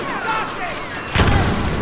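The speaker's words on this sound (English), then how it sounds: "Ah! Explosions!" Loud explosions in Star Wars Battlefront 3 rumble through the clip, with a heavier blast about midway followed by sustained booming and crackle.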